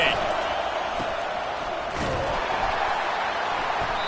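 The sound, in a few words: stadium crowd roaring at a football game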